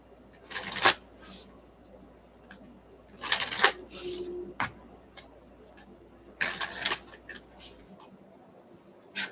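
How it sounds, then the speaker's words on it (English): A deck of cards is shuffled in three separate riffles, each a loud, fast fluttering burst with a sharp snap at the end, separated by quiet pauses. "I am noticing that they're getting easier to shuffle the more I use them too."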